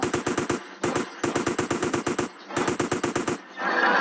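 Rapid full-auto bursts from an M4 rifle in GTA, fired one-handed in several tight strings separated by brief pauses, loud and close, with a rushing noise at the very end.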